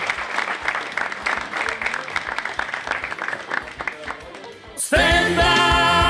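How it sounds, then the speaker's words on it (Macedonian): A stand-up comedy crowd in Macedonia claps in a full, continuous round that thins out near the end before loud music abruptly cuts in. "Дајте да аплауз да се напијаме."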